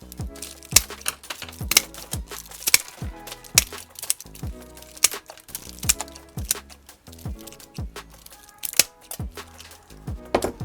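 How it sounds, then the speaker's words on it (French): Sharp crisp snaps and clicks of cutting through flower stems for a bouquet, a dozen or so close, irregular cracks with brief pauses between them and no talk. "on pourrait couper à peu près ici. Donc, on vient faire une coupe droite."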